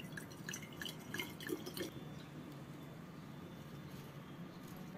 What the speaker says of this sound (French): Je vais y mettre de l'eau.